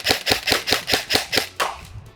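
An HK416 A5 airsoft rifle with a MOSFET-equipped gearbox fires a quick, evenly spaced full-auto burst of about eight sharp, loud snaps, followed by a short trailing mechanical rattle.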